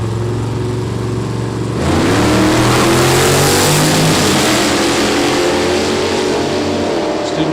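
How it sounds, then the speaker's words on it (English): Studebaker drag car racing down the strip toward the finish line at a Byron Dragway event, its engine roaring loud and steady with the pitch climbing through gear changes, a sustained close, heavy drone with no voices. "Studebaker out front, going to stretch it out a little bit, getting to the finish line"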